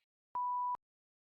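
A single clean censor bleep, a steady pure tone lasting under half a second with abrupt clicks at start and end, isolated against silence.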